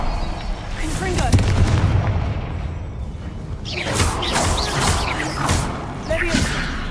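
A Confringo fire spell explosion in Hogwarts Legacy, heard as dense bursting booms and whooshing blasts over a steady bed of game combat noise, with a louder flurry of impacts in the second half.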